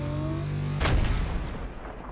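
Battlefield 2042 Railgun TOR firing a shot at a tank: a steady engine hum, then one sudden loud boom at about the one-second mark that rolls off into a fading rumble.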